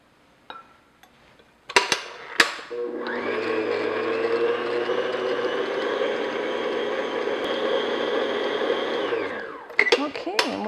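An electric stand mixer whirs steadily for several seconds, beating pound cake batter made with eggs, framed by clinks and knocks of a spatula and bowl before it starts and after it stops.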